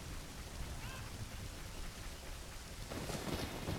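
Rain falls in the video game Ocarina of Time, a steady broadband hiss of downpour that swells louder near the end.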